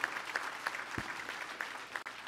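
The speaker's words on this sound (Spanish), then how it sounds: "démosles nuevamente un fuerte aplauso y nuestro" A police promotion and decoration ceremony in Michoacán, where the audience gives a round of applause, heard as sparse, fairly distant clapping at low level across the hall.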